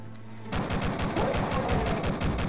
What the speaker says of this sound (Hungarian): Amíg lehet, addig pisztolyt használok.